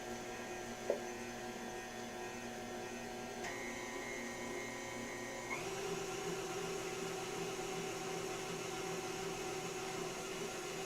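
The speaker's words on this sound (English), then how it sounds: "The whisk used to be really, really noisy until I did a little maintenance on my machine" A stand mixer whirs steadily with a constant motor hum, its whisk drone shifting pitch slightly partway through, with a single faint click early on.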